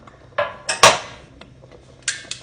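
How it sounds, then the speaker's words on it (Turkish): Several sharp metallic clanks and rattles ring out as a steel colander is set down over a pot of simmering pepper paste, with one louder clang in the middle. "şöyle bir çelik kevgir kapatıyorum üzerine"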